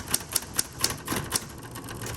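Sharp, evenly spaced keystrikes from a 1960s Coronet electric typewriter, about six clear clacks in quick succession, each with a bright metallic snap, close and alone with no voices.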